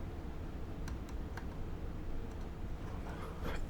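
Mechanical keyboard keys are pressed in a key tester, a few sparse, sharp clicks over a steady background hum, with a quick cluster of taps near the end.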